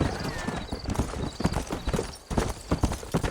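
Horse hooves clip-clopping at a steady trot while riding in the Western video game Red Dead Redemption, loud and close, with rapid rhythmic beats under in-game voices.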